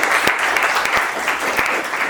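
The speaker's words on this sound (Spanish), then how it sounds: "Un aplauso" An audience at a Chicano poetry talk claps in a brief burst of steady, full applause with individual claps standing out.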